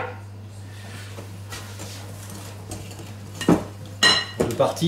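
Whipped egg whites folded into chocolate log batter in a bowl, heard as soft scraping and stirring with a few sharper clinks of utensil on bowl toward the end, over a steady low hum.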